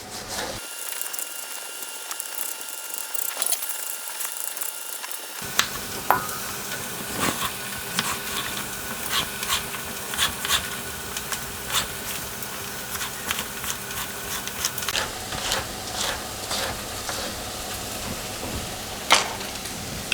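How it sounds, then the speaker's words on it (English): Onions frying in a pan give a steady soft sizzle with scattered crackles and occasional utensil taps, continuing close and even for a long stretch with no talking. "So the onions are down, cooked down nicely."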